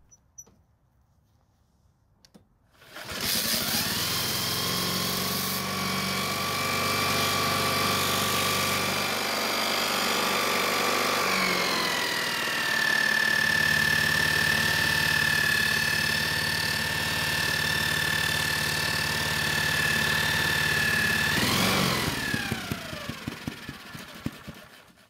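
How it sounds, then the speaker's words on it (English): Honda lawn mower engine starting and running with a faulty whining noise, a steady close drone carrying a high tonal whine that shifts pitch midway, cutting off sharply near the end. "So the engine started on the first pull, however, it was also making a whining noise."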